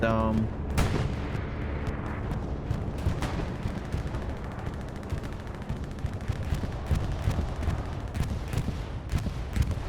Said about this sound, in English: There is a bombing run coming in on top of the battery.